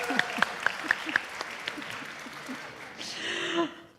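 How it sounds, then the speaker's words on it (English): Church congregation applauding, a few distinct claps at first and then a brief, fairly quiet patter of clapping that trails off, with some low murmuring underneath. "Let's give a round of applause for Brian Ehler and his creativity."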